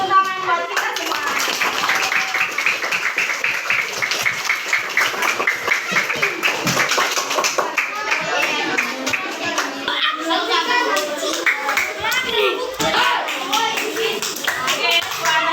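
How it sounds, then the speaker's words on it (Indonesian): Children in a class clap their hands together, rhythmic bursts of clapping mixed with young voices chattering and calling out, lively and close, continuing over about fifteen seconds. "Tepuk tangan buat kita semua."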